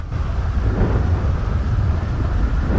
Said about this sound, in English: Oh, that was lightning. Oh, Thunderstorm!